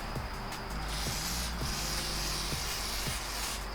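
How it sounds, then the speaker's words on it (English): An aerosol can of penetrant sprays in a garage during a coilover install on an E36 M3. A loud, continuous hiss comes from close by, with a few brief sputters and taps, and no one talks. "Well, we're using brake cleaner."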